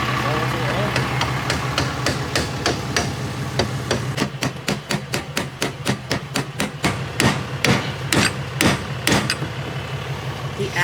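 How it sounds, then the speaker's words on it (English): A hammer strikes metal during a car rebuild in a garage, first irregular blows, then a fast steady series of sharp, loud clanks, with an engine rumbling low in the background. "The accuracy with a hammer is actually impressive."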